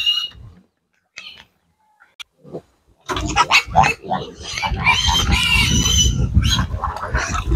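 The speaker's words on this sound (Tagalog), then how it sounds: "Ngayon pakainin naman natin yung ating mga biik." Native piglets at feeding time: a few scattered soft grunts and clicks, then a sudden, dense burst of squealing and grunting from several animals close by.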